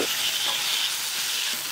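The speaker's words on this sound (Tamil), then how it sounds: "தக்காளி நல்லா வதக்கிக்கோங்க." Tomatoes sizzle and fry in a pan with curry leaves and dried chillies, a steady close hiss with faint stirring for under two seconds.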